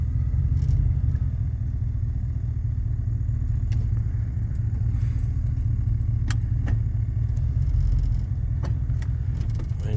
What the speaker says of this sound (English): Well, it runs. It's idling good with the load of the tranny.